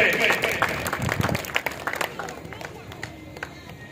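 Audience applause at a Parents Day school event in Gurguri, Karak, greeting a 7th-grade student speaker; dense clapping from a crowd, loudest early and thinning out over a few seconds, with some voices mixed in.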